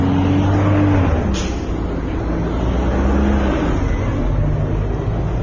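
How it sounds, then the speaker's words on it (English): A heavy dump truck rumbles past at close range, a loud, steady low engine roar with a brief hiss partway through, filling the whole stretch without talk. "I got a freaking dump truck about to pass by"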